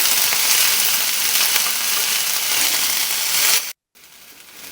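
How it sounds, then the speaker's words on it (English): Onions sauteing in a pan for a potato and artichoke frittata, giving a steady, loud broadband sizzle that runs unbroken for several seconds, then cuts out abruptly before returning more quietly; no talking. "we've done our 5 minutes of sauteing our onions"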